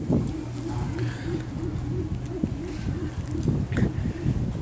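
Pigeons coo in low, rolling, repeated phrases at close range, a steady overlapping murmur that runs through the whole stretch while faint chirps come and go above it.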